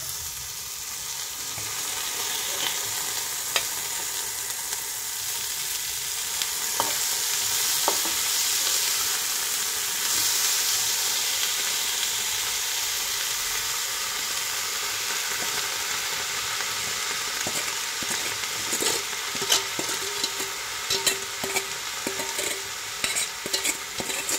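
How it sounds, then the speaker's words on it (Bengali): Fenugreek greens (methi) fry in hot oil in a pan, a steady broad sizzle running throughout with scattered scraping clicks of stirring, close and fairly loud with no talk. "এইবার এতে ধুয়ে রাখা শাক এতে দিয়ে দেবো, এই যে মেথি শাক।"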